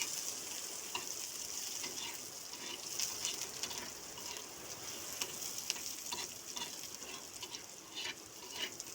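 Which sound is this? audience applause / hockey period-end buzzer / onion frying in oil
onion frying in oil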